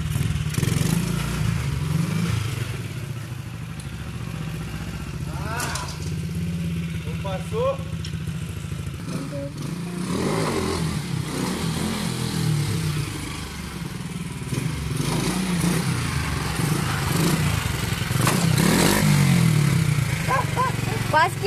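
Stunt motorcycle engine running loud and steady during wheelie and freestyle riding, a continuous low drone with occasional rev swells, with people talking over it throughout.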